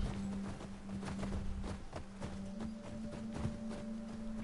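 Horse hooves clip-clopping in Last of Us 2, a steady run of close, dull thuds carried over a constant low game hum, with no talking.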